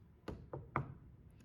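Three firm knocks on a door, evenly spaced and close by, with no voices and only a quiet room hum underneath.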